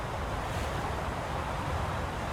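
A cruiser in War Thunder at the Taratupa map pushes through the sea at speed, with a steady, dense roar of water and wind close by and no pauses.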